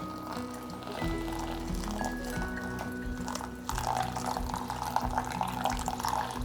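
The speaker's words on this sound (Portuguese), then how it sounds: "Agora vamos despejar mais 2 ou no máximo 3 despejos de água." Hot water is poured in a thin stream over ground coffee in a Melitta filter, a soft, close, continuous trickle that shifts in pitch and grows slightly fuller partway through, with no speech.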